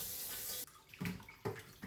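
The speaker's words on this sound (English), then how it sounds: "I am going to rinse it in room temperature water, just room temperature water" Chicken feet rinsed in room-temperature water, with close, splashy bursts of running water broken by short pauses and sloshing.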